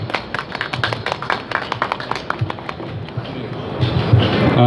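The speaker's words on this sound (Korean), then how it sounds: "박수로 맞이해 주시기 바랍니다" Audience welcoming a speaker with applause at a smart factory exhibition's company case presentation, a busy irregular clatter of many hands throughout, fairly loud and swelling near the end.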